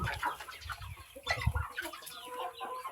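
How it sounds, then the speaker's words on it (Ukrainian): Chickens clucking and roosters calling close by, a busy overlapping chorus of farmyard fowl with a few sharper calls standing out. "Видите, які тут які тут кури і півники."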